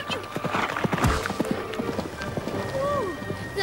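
Horses clip-clopping past on a city street in a children's animated adventure, a quick run of hoof knocks amid busy traffic and other sound effects, with voices speaking over it.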